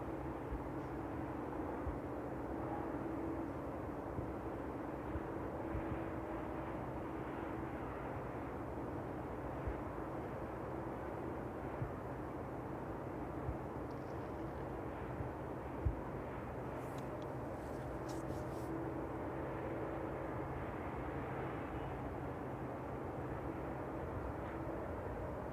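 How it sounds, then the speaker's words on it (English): An airliner on final approach at East Midlands Airport on an evening, a steady faint distant engine drone that holds level throughout with no talk. "And it looks like we've got a aircraft on final now."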